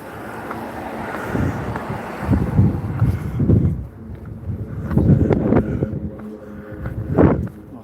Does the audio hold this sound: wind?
yes